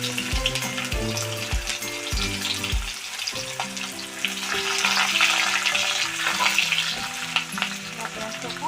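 Chopped onions fry in a pan with dried chillies and a little water, giving a steady sizzle and crackle broken by several clattering stirs of a utensil against the pan; no one speaks.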